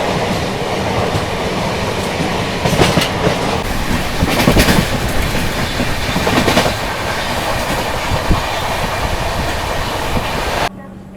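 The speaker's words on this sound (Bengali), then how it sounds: "আমি আছি এখন কলকাতার রেলওয়ে স্টেশনে" A train at Kolkata railway station rumbles steadily with rail clatter and bursts of wheel and carriage noise, loud and close throughout, cutting off abruptly near the end.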